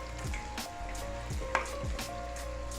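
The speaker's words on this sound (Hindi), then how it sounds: "ये जो मैंने चावल तकरीबन 20-25 मिनट पहले भिगो के रखे हुए थे, ये इसमें चले जाएंगे" Soaked rice goes into a hot pot of sizzling chicken pulao, giving a close, loud crackling sizzle with several stirring scrapes and a sharp clink.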